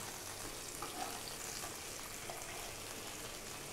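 A hilsa fish tail fries in a pan with a steady, crackling sizzle of hot oil that holds even and unbroken throughout, with no talking.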